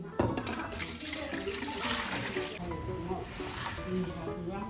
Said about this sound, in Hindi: हम सिल्क वर्म को अच्छे तरीके से हम इसको धो लेंगे।